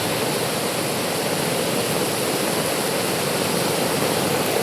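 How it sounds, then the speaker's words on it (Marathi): Rainwater rushing along a flooded road during heavy rain, a loud, constant broadband roar like a torrent, unbroken and close, with no voices. "असं पाणी वाहतंय"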